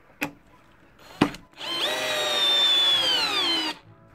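Counterfeit Bosch GSR 18-2-LI Plus cordless drill, two short clicks and then a close, loud whining motor run of about two seconds that rises and stops abruptly.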